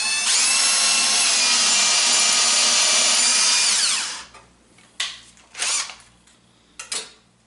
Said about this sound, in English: countersinking or drilling a pilot hole a little bit deeper into this other piece